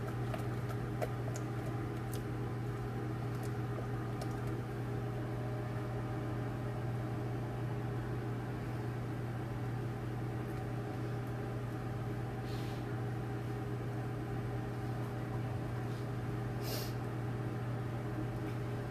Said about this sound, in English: But literally, this is in the microwave.